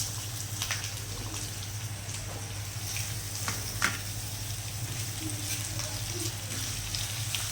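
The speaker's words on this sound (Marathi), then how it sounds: "सगळ्यात आधी आपण थोडं तेल टाकून घेऊया. थोडासा लालसर कांदा भाजायचा. आधी कांदा टाकून घेऊया." Onion frying in oil in a pan for misal pav, a steady close sizzle and crackle running throughout, with a few faint stirring scrapes and no talk.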